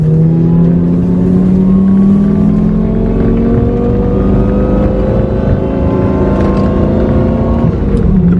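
A Lamborghini Gallardo engine, not yet warmed up, revving and accelerating through low gears, loud and close, its tone rising and falling in sweeping pulls without any talking.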